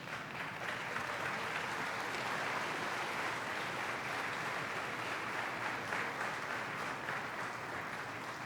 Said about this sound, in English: give your support team a round of applause